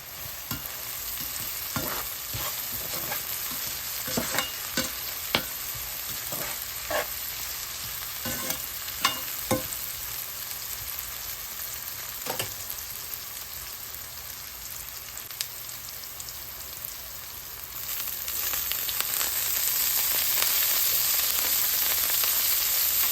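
Onions salted and sautéing in a pan for a curry hiss in a soft, even sizzle, punctuated by sharp scraping taps of a spoon stirring against the pan, the frying swelling slightly louder near the end.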